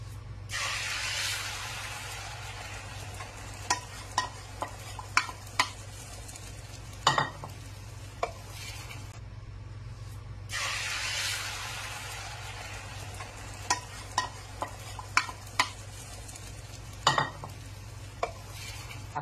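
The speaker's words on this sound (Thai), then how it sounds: "จะมาทอดไข่เนาะ" Seasoned eggs fry in a pan with a steady, hissing sizzle, punctuated by sharp clicks and scrapes of a utensil stirring and turning them.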